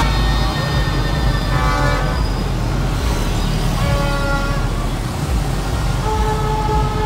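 Dense, continuous roadway traffic on Mall Road during a crowded holiday celebration, with repeated car and vehicle horns honking in overlapping bursts over a steady engine rumble, near and loud throughout.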